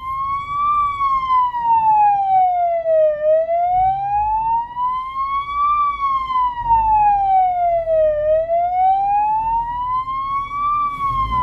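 An ambulance siren wails in slow rising and falling sweeps, loud and close, with low road rumble beneath and no voices.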